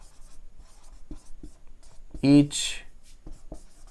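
Pen or chalk scratches across a board during a grammar lesson in short separate strokes, close and fairly quiet, while a teacher speaks briefly.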